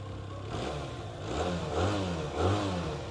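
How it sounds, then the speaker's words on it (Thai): A 2020 Benelli 302 two-cylinder motorcycle on its stock exhaust runs close by, a loud, steady burbling idle lifted by two short throttle blips. "เสียง2สูบสไตล์เบนเนอรี่เสียงจะประมาณนี้เลยนะฮะ"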